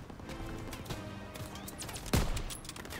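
Machine-gun fire on the Normandy beach during the D-Day mission of Call of Duty: WWII, rattling under general battle din, with one heavy nearby blast or shot near the end.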